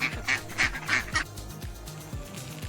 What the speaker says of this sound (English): This is a duck, quacks and swims.